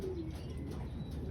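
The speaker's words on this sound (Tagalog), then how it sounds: "Ayan, yung mga kalapati natin." Pigeons coo softly at close range, a low throaty warble over a faint background hum, with a few light chirps mixed in.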